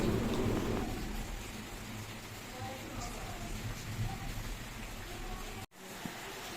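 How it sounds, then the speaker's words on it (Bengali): Heavy rain pours steadily outdoors with rumbling thunder, heard from inside a kitchen while vegetarian potato dum is being cooked; the dense wash of rain stays loud throughout, with a brief dropout near the end. "বাইরে যা এক একটা বাজ পড়ছে"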